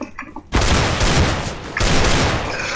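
Rapid bursts of gunfire from a CS:GO competitive match, a loud sustained volley that breaks in after a brief quiet start, with a second burst near the end and faint talk underneath.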